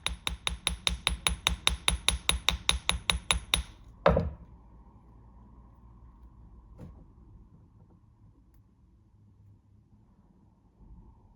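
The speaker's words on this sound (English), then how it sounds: "Moving on to hardening and hammering, I'm using my favorite hammer." Rapid, steady hammer strikes on metal stud earrings being hardened, about twenty evenly spaced ringing blows, then a louder final knock and a long quiet stretch with a faint hum.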